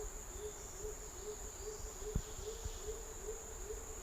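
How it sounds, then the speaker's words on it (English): Hooting owl calls repeat in a slow rhythm against a steady, high chorus of crickets in a wet rainforest night, faint and distant, with a soft tap or two and no talking. "This is what you will probably hear. Many species of birds that only exist there"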